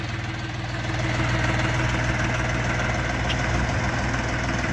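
A Dongfeng DF244 tractor's diesel engine runs with a steady, loud low rumble and rattling knock, rising slightly as the tractor pulls away, heard close with no talk.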